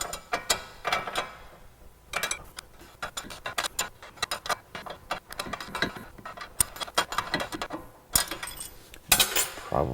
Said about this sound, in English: hold this shaft in place while you're loosening the bolt